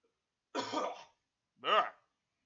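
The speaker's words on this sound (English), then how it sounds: "I'm sorry you all get to hear the horribleness that is my cough" Two rough coughs, close and fairly loud, separated by a short pause, with silence around them.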